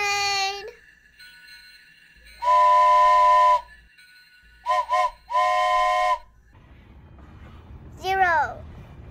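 A cartoon train steam whistle blows in loud bursts: one long blast, two short toots and another long blast, ringing clear and close, with a brief high rising whistle near the end and no talk over it.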